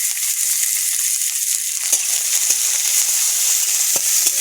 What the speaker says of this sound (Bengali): শুকনো লঙ্কা, পেঁয়াজ, রসুন সাদা করে দিলাম